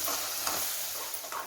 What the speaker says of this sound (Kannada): ಚೆನ್ನಾಗಿ ಫ್ರೈ ಆಗಬೇಕು. ಇದೀಗ ಒಳ್ಳೆ ಫ್ರೈ ಆಗಬೇಕು.